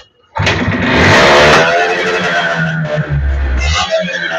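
A used Honda motorcycle for sale starts up close and loud, its engine catching abruptly and revving before settling into a rougher, lower idle.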